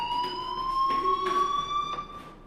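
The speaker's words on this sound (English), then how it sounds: "do you hear that fire alarm?" A fire alarm rings in the video game Life is Strange, a steady electronic tone with bright harmonics sounding continuously at moderate level, swelling slightly in short pulses throughout.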